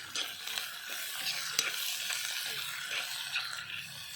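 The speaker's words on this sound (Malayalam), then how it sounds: "ഉലുവ പൊട്ടിയതിന് ശേഷം സവാള ഇട്ട് കൊടുക്കുക" Onion fries in coconut oil with popped fenugreek seeds in a pan, a dense, even sizzle heard close by with soft stirring and scraping throughout.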